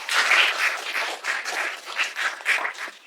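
An audience at a World Cancer Day mental health session held at Jahangirnagar University claps together, a dense, continuous wash of applause with no talk, moderately loud throughout.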